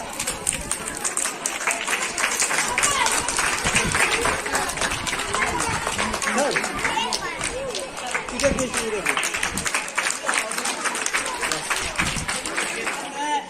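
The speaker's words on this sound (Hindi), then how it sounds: "प्रिंसिपल सर जोरदार ताली से स्वागत करें सर का।" A school audience at a Swachhata Pakhwada prize distribution breaks into loud, sustained clapping for the principal, a dense wash of hand claps across the whole stretch with some crowd murmur mixed in.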